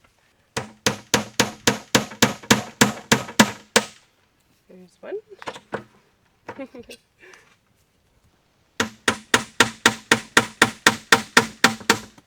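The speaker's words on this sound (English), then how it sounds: "you can also just use a hammer and a nail" Rapid, sharp hammer strikes driving a nail to punch drainage holes, in two steady bursts of about a dozen blows each, with a short stretch of talking and handling noise between them.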